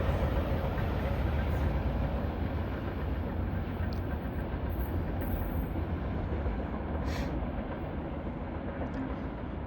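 A train rolls past on the Indy Line at Sidney, Ohio, on old B&O track, making a loud, steady rumble of wheels and engine that holds for several seconds, with faint higher squeals above it.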